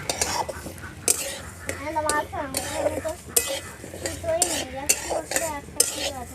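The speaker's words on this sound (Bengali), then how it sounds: "ডাল ভাজা হয়ে গেছে" Moong dal is dry-fried and stirred in a pan, a spoon scraping and clinking against the metal in irregular strokes over a faint background hum.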